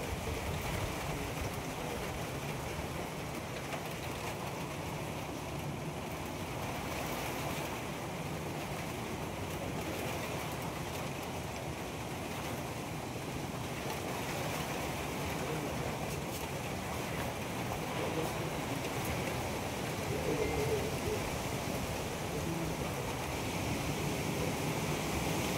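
Strong wind roars during Typhoon Uwan near a large tree, a dense, steady, loud rush that runs unbroken for the whole stretch.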